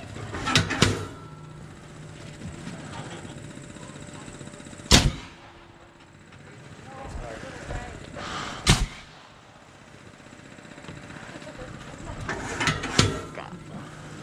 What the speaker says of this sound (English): Shooting a little left.